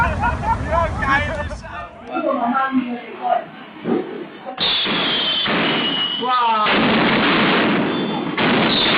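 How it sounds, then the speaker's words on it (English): Fireworks going off unexpectedly at close range: a string of sharp explosive bangs and crackling bursts, loud and irregular, amid shouting and agitated voices of a crowd. "unexpected explosions like this can turn dangerous in a split second when you're too close"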